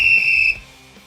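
A single loud whistle blast on a steady high tone, blown in a podcast studio, holding for about half a second and then cutting off, leaving quiet room tone with no talking.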